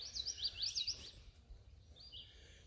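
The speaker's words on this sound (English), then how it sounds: "There's a house wren singing." A house wren sings during an early morning bird walk at an arboretum, a quick, faint burst of bubbling high notes with a shorter, softer phrase near the end.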